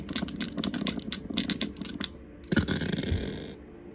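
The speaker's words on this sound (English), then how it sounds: "let's see what comes out the astro dice here." Astrology dice rattle and clatter as they are shaken and rolled, a quick run of sharp clicks followed by a final louder tumble and settle, close up with no voices.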